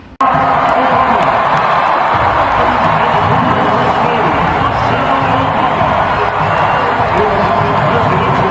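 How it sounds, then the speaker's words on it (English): A loud, dense arena crowd cheers and shouts without a break at the All-Star game, greeting the Obamas. Voices, whoops and roaring blend together and the level holds steady throughout. "the camera panned to them, and the crowd cheered"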